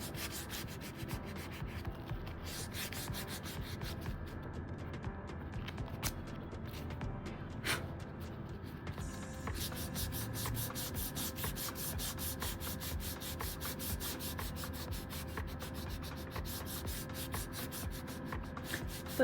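A tissue rubs oil pastel across paper to blend a sunset drawing, a close, continuous soft scratchy scrubbing in quick back-and-forth strokes, alone with no talking.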